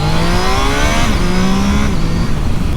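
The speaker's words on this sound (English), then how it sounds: "I do just love this engine." A 2025 Triumph Tiger Sport 660 motorcycle engine revs hard, pitch climbing through rising gears with a loud, continuous drone close by.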